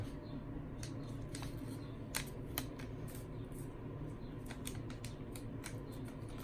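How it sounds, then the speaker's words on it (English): A square piece of paper such as a Post-it is folded corner to corner, making soft, scattered crinkles and sharp creasing clicks at close range, with no talking. "So you want to do is fold it corner to corner."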